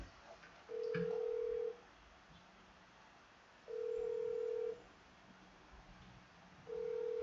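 Telephone ringback tone while placing a call, three steady, evenly spaced one-second tones separated by two-second gaps, clear and fairly close against quiet room hiss.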